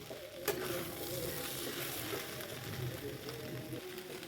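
Onions and chopped green chillies sizzle steadily in a pan for a curry of watermelon rind, a constant close frying crackle with faint clinks and background murmur throughout.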